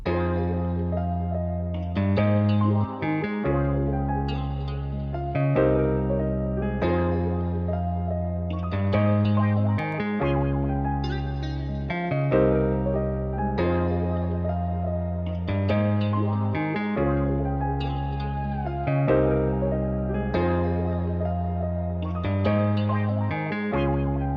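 A repeating electric piano loop with deep bass notes and swirling wah-effected chords, washed in reverb and cycling steadily for the whole stretch, made in FL Studio.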